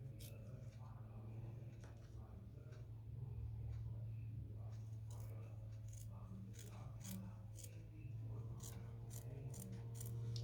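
Scissors cut fabric for doll pajamas, giving repeated close, crisp snips over a steady low hum. A voice speaks quietly in the background.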